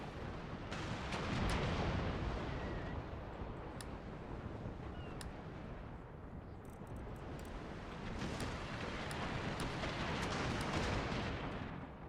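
Naval cannon fire in Empire: Total War, heavy booming broadsides rolling continuously through a sea battle, dense and loud with overlapping blasts throughout, and no talk.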